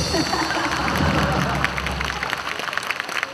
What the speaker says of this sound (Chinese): 我们给乐队一个热烈的掌声